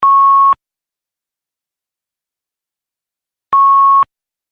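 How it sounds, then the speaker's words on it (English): Two identical steady electronic beeps on a phone call line, loud and clean, about three seconds apart, with silence between them. "You're beeping."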